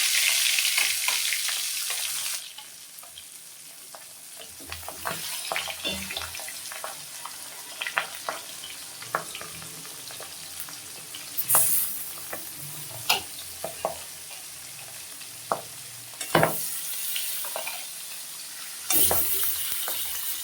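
Boal fish pieces sizzle and spatter in hot oil in a pan, a steady close frying hiss with bursts of crackle and occasional stirring clinks, with no talk.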